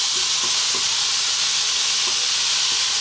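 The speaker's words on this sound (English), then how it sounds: "we want to cook this now for about 4 to 5 minutes, staying on this high heat and moving it pretty much all the time now" Tomatoes and spice mix fry over high heat in a pan, a loud constant sizzle and hiss with occasional soft scrapes of stirring.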